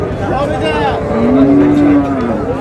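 Dairy cows and calves moo at the Raniganj cattle market, with one loud, long, close low moo rising over overlapping bellows and crowd murmur.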